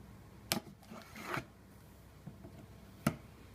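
A box cutter slices open the cardboard packaging of a GameStop refurbished original PlayStation 4, giving a few brief, quiet scraping and tearing sounds with sharp isolated clicks in a hushed room.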